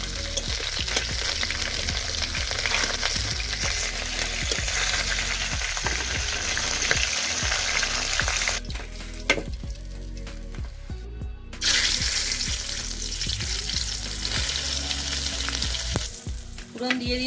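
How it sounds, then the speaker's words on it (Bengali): Sole fish and spices frying in a pan, a loud continuous sizzle with stirring, briefly quieting midway before the crackling frying resumes, no voices. "মাছগুলো লাল করে ভাজা হয়েছে"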